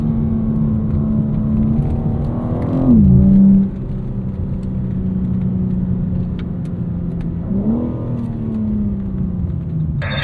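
BMW cars roll slowly into the pit lane at a performance-center track, a steady low engine drone close by with two brief revving swells as cars pass, no voices.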